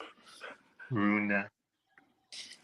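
A puppy dog pants and lets out a brief, whiny whimper close by, while people talk around it in a casual home setting.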